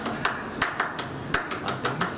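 Sharp, close hand claps, the inner right palm striking the outer left palm, repeated about nine times in quick, slightly uneven succession, with nothing else heard.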